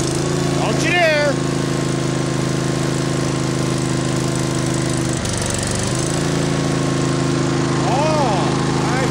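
A small tractor engine idles steadily with a loud, even drone, briefly dipping in pitch midway before settling back; a voice cuts in over it near the start and again toward the end.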